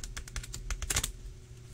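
A large Visconti-Sforza tarot deck is shuffled end to end, giving a quick run of crisp card flutters and taps followed by a brief quiet tail, fairly faint and close.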